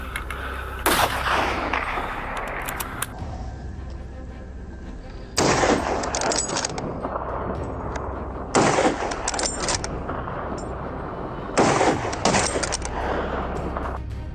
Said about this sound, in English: A deadly volley ends the thrilling pursuit.